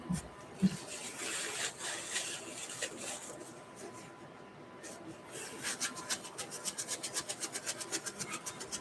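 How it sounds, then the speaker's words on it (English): A brush loaded with oil paint is rubbed out against a cloth, giving soft, close scrubbing strokes that become a quicker, regular back-and-forth rhythm toward the end. "I'm just gonna rub that brush out"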